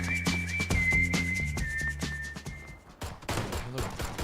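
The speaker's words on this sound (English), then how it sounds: "play that hipster song with whistling" A song with a bright, sustained whistled melody plays over a rhythmic beat, then gives way to sharp bursts of gunfire-like cracks from PlayerUnknown's Battlegrounds.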